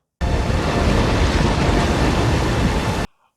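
Rushing flood water from a Lord of the Rings battle scene roars as a loud, dense, steady wash that starts abruptly and cuts off after about three seconds.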